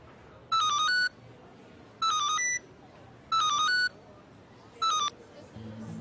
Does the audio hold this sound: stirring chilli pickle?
no